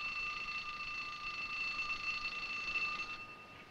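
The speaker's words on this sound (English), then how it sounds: "I thought I heard a bell." A steady electric bell rings continuously with a bright, sustained tone, then cuts off near the end, no voices present.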